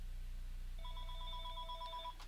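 A telephone rings once in a video game scene, a steady electronic trill starting partway through and holding for over a second over a low constant hum, moderately loud.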